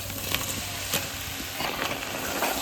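Young jackfruit added to a hot pan with fried potatoes and sugar for a vegetarian jackfruit curry, giving a steady close sizzle with faint stirring scrapes and no talk.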